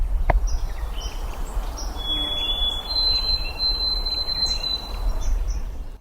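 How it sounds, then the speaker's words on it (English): A white-throated sparrow sings its clear, drawn-out whistled song, a long pure note followed by steady repeated notes, carrying over a steady outdoor background hiss in the Maine woods. "White-throated sparrow, old Sam Peabody, Peabody, Peabody."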